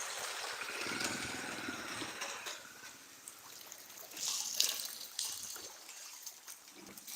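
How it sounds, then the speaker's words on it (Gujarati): Rainwater flowing into the Bhadar river, a steady low rush and trickle of running water heard from close by, with a brief louder splashing surge in the middle; no voices. "ધીરે ધીરે પાણી જવા માંડ્યું છે"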